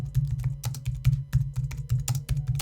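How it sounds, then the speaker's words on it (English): Fast typing on a computer keyboard, close and loud. Rapid, uneven key clicks and heavier thumps come in quick succession throughout, with no voices. "Now you know how quickly I type"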